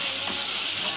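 Mutton curry fries in hot oil as cucumber pieces go in, a loud, even sizzle filling the whole second with no voices.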